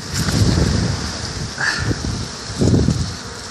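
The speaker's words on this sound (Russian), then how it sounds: "А ветер шумит." Strong wind blows in a rough, rushing wash that swells in gusts, with a louder surge near the start and another toward the end, heard outdoors with no talking.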